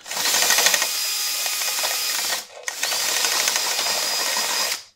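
A drill whirs loudly at close range while ripping open a Dettol no-touch dispenser refill, running steadily, pausing briefly midway, then running again with a rattling mechanical buzz.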